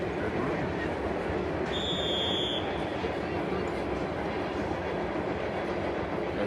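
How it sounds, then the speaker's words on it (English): A train passes near a junior high football field during a game: a steady, fairly loud rumble runs through the whole stretch, broken by a brief high-pitched tone near the start. "As the first train of the afternoon goes by in the background."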